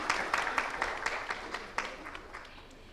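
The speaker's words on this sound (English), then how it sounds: "Can we have a big round of applause," Steady applause from a conference audience at a cancer summit and awards event, many hands clapping continuously at moderate volume, heard from a little distance.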